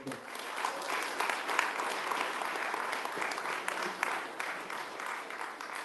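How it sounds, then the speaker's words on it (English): Sustained applause from a large crowd at a Workers Party of Britain political event, dense and steady clapping that fills the whole stretch without letup. "Let's give a big round of applause"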